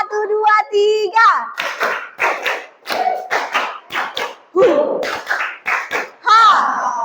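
A class of schoolchildren performs a rhythmic clap chant, with sharp group handclaps in quick patterned bursts under loud, chanted young voices.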